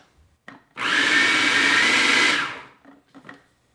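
A kitchen blender on low speed mixing homemade Twix candy bar dough into a damp-sand texture, running as one loud steady whir for about two seconds between brief clicks and clatter of handling.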